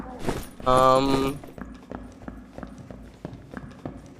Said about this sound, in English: I definitely hear footsteps.